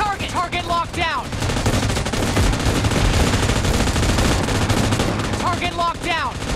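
Automatic weapon fire in PUBG Mobile team deathmatch, loud rapid bursts rattling continuously in the middle of the clip, with a radio-style voice callout at the start and end.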